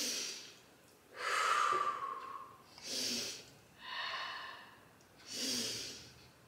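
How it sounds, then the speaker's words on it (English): A small child breathes in and out on camera at home, four slow breathy puffs with a nasal, snorting edge, each swelling and fading with short pauses between, close and fairly soft. "I'm gonna show you breathing."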